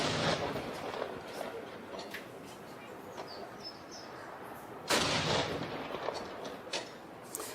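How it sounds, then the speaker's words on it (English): Artillery firing a 21-gun salute in New Zealand, a loud booming report with a long rolling echo, a second sharp boom about five seconds later, and faint birdsong in between. "there have been two 21-gun salutes to acknowledge the proclamation of King Charles III"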